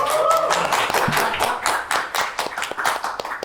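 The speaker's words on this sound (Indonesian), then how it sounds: "kita kasih tepuk tangan untuk narasumber kita semuanya" Audience clapping for the speakers at a podcast competition panel, a dense patter of many hands close by that holds steady throughout, with a brief tonal voice fading at the start.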